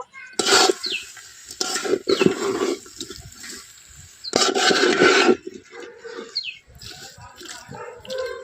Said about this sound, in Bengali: বাঁধাকপি, পালং শাক, সমস্ত সবজি মশলার সাথে খুব ভালো করে একটু কষিয়ে নেব।